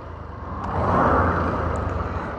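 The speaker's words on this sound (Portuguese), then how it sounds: "Tem um carro ali atrás." A car passing somewhere behind on an open road, a broad steady rumble that swells to a peak around the middle and then eases slightly as it goes by.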